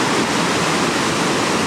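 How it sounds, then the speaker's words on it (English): Water gushes and churns steadily at close range as a large spring wells up from the ground into the Rogue River at its natural bridge, a dense, continuous rushing with no pauses. "You can see how there's the water coming out like a big spring out of the ground"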